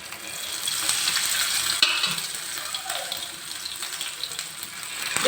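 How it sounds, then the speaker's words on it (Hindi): Chicken pieces shallow-frying in a little oil in a pan give a steady, moderately soft sizzle and crackle, with a few light clinks and stirring noises along the way. "अब थोड़ा थोड़ा सा करके जो है चिकन फ्राई करना है।"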